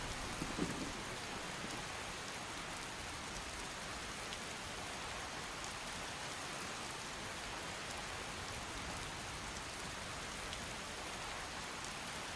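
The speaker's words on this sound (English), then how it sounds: "Still raining." Steady, even video game rainfall in Tamriel with the Obsidian Weather mod hisses without pause, a constant wash of drops with no voices.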